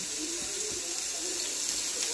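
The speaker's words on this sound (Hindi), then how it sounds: "इसको पूरा अच्छे तरीके से निचो लेते हैं" Water squeezed and dripping from cooked vegetables by hand into a pan, a steady close splashing trickle throughout with no talk.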